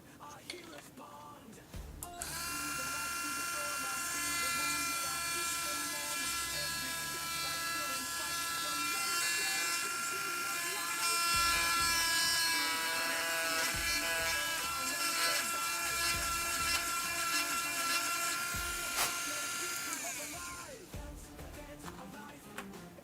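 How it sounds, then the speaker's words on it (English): Handheld power tool grinding during a craft project, a high buzzing whine that starts abruptly, runs steadily for about eighteen seconds with slight pitch shifts, then cuts off, close and loud. "I'm going to have to use the power tool"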